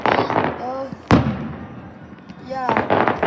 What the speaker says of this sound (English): Yeah, we're doing fireworks.